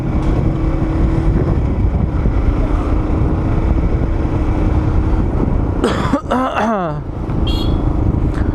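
A warmed-up motorcycle engine runs steadily under a rider in gloves and helmet, a constant loud rumble with a brief burst of coughing or throat clearing near the end.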